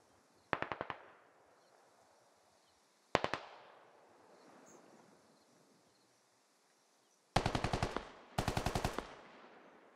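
Gunfire in the video game SquadOps comes as four sharp automatic bursts, two short and two longer ones close together near the end, each ringing out with a fading echo over a quiet background.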